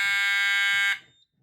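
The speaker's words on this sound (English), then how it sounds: "When you take the detector head off, it goes into alarm." A fire alarm panel sounds a loud, piercing, steady electronic tone after a smoke detector head is removed. The tone holds for almost a second and then cuts off, followed by faint handling knocks.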